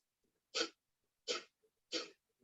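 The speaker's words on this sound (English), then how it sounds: "it's a forced exhalation through the nostrils. It's almost like you're like making a sneezing noise" Three quick, forceful exhalations through the nostrils, sneeze-like puffs in breath-of-fire yoga breathing, evenly spaced with quiet pauses between, close and clear.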